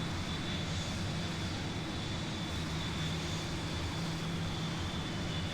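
An aircraft engine in Kerbal Space Program gives a steady, loud, unbroken roar with a constant high whine on top, holding the same level throughout.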